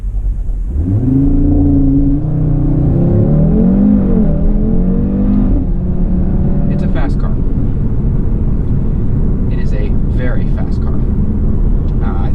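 A 2020 Audi RS3 launches from a standstill at an intersection, its engine note climbing through rising gears as it accelerates hard, loud and close inside the cabin with a steady road roar underneath.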